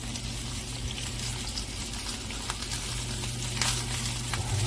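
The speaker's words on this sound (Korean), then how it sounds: "팬에 기름을 살짝 둘러주시고요. 다진 마늘을 살짝 넣어주시고요. 다진 마늘을 살짝 볶아주시다가" Minced garlic sautés in a little oil in a pan, a steady close sizzle with a low hum beneath it and a few brighter crackles near the end.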